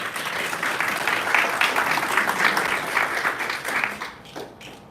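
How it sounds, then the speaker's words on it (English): A round of applause from an audience welcoming a speaker at a community event, loud dense clapping swelling and holding steady before tapering off toward the end. "Let's welcome her with a round of applause."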